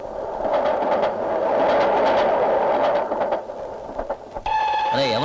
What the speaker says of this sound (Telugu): అయ్యో రైలు వచ్చేస్తుంది